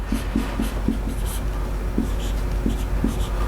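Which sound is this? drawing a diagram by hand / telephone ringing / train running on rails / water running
drawing a diagram by hand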